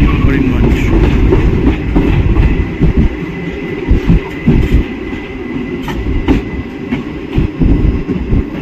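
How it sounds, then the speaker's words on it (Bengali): Train 13174 from Agartala rolls into Karimganj Junction, a loud close rumble with rhythmic wheel clatter and knocks throughout. "আগরতলা থেকে ছেড়ে আমাদের ট্রেন এখন এসে পৌঁছালো 13174 হচ্ছে করিমগঞ্জ জংশনে।"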